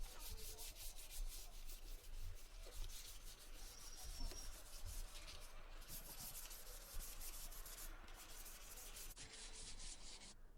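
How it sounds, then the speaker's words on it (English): Steady, close abrasive rubbing as a primed pallet-wood butcher's-block table top gets a light sanding, continuous strokes running for the whole stretch with brief pauses near the middle and end. "I gave it another light sanding over"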